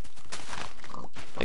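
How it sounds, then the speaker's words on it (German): Pigs in the video game Minecraft give a few short grunting oinks, close and fairly loud, over a busy game background, with no talk. "Oh, hier gibt's aber auch eine Menge Schweine."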